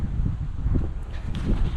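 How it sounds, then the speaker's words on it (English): Steady low rumble of wind buffeting the microphone at a yard sale, continuous and fairly loud, with faint rustling mixed in. "Oh, it's kind of windy."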